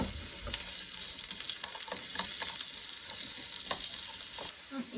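Sliced onion hissing and crackling in hot oil over medium-high heat for a Japanese ginger pork stir-fry, a close, dense sizzle with brief spatula scrapes and pops throughout, no voices.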